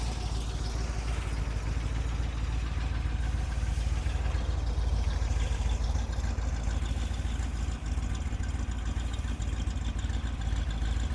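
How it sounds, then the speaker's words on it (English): A 1963 Corvette convertible with a 327 V8 rated at 340 horsepower idles through its period-correct exhaust, a loud, steady, deep rumble with a slight lope, close by and uninterrupted. "Gotta love the exhaust."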